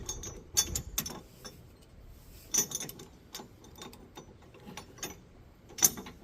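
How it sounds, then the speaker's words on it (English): An Allen key tightens the bottom bolt of an anti-rattle hitch immobilizer in a receiver hitch, giving sparse, close metallic clicks and small scraping ticks with quiet gaps between them and no talking. "we will tighten this on the bottom with the included Allen key"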